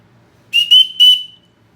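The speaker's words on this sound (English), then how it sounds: "the only other thing on here is the whistle on the back. So I am going to blow this real quick" A SOL Origin survival kit whistle blown in three quick shrill blasts, piercing and very loud at close range, with the last note trailing off.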